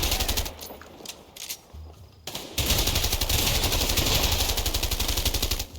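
Rapid automatic gunfire from the video game A Way Out, loud and close, comes in broken bursts that give way to a sustained stretch of continuous rattling fire.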